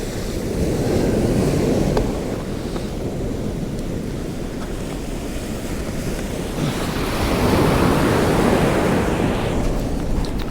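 Sea waves surge and break on the shore at Kilnsea beach on the UK east coast, a loud continuous roar with wind buffeting the microphone and a swell building toward the end.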